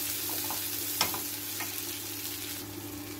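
Chopped shrimp fry with onion and garlic in a pan at a gentle, quiet sizzle, with a low steady hum underneath and occasional soft clinks of a spatula stirring.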